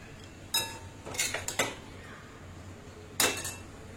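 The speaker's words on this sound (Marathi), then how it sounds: "तर आता आपण हे प्लेटमध्ये काढून घेऊया।" Oats poha being served from a pan onto a plate: a few close metallic scrapes and clinks of a spoon against cookware, spaced apart with quiet gaps between.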